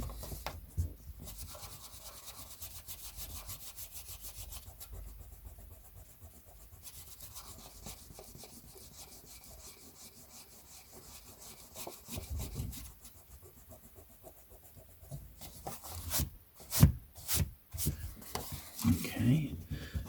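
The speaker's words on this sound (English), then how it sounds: "I'm just going to finish the job with my nice soft art rubber here." Soft art rubber erasing pencil marks from a vintage Penguin paperback, close, quiet rhythmic rubbing strokes in bursts, with a few louder scuffs and handling noises near the end.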